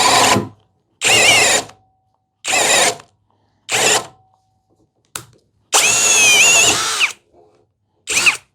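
A Hanabi Black cordless drill bores with a 1-inch spade bit at high speed, running in six separate loud bursts of roughly half a second to a second and a half each, with one shorter blip between them and silence in the gaps.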